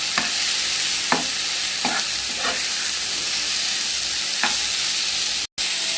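Plenty of garlic fries in a pan for a dried fish (shutki) curry, a steady close sizzle with about five scraping stir strokes spaced a second or so apart, then a brief silent gap before the sizzling resumes.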